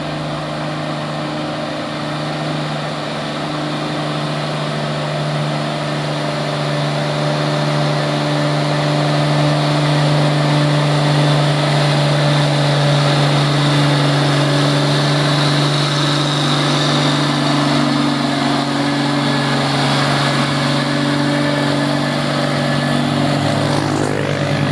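A heavily loaded Fuso tanker truck labours up a steep hill, its diesel engine droning loud and steady with a deep, constant hum that swells slightly as it keeps climbing, with no voices.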